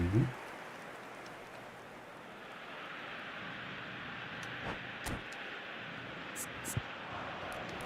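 Rain falls in the football video game eFootball 2026 as a soft, steady hiss behind a faint crowd murmur, with a few brief louder bursts scattered through it.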